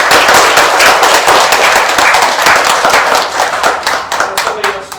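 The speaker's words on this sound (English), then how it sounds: "let's give all of our students a round of applause" An audience applauds the student finalists at a storytelling competition, with loud, dense clapping that tapers slightly toward the end.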